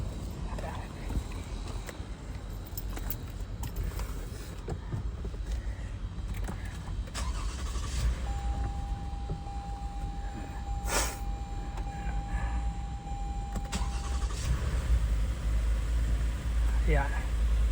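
A 2017 Toyota Sienna engine, just fitted with new spark plugs and ignition coils, rumbles at a low, steady idle close by and continues throughout.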